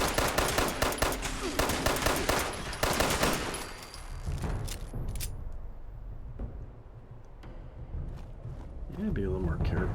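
Rapid automatic gunfire in Fallout 76, loud bursts that dominate the first few seconds, then sparser shots and a final burst, with someone talking over the action.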